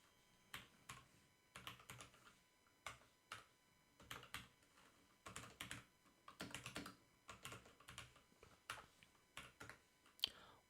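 Someone types on a computer keyboard in quick, irregular clusters of key clicks, fairly soft and close, with short pauses between the bursts and no talking.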